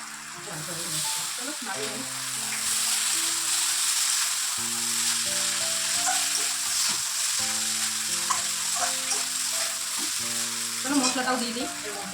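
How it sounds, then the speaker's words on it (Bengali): Chowmein noodles frying in a pan, with a steady sizzle and the scrape and clatter of stirring throughout, loud and close, with a faint voice briefly in the background. "চলো আমার চাউমিনগুলো দিয়ে দিই"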